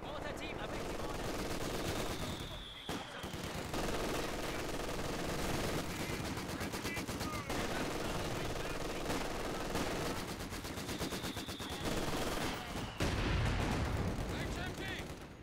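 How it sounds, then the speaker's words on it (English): Sustained automatic machine-gun fire in a WWII-style battle game, dense bursts of rapid shots rolling continuously with distant explosions and battlefield din, occasional game voice callouts mixed underneath. "Under automatic fire!"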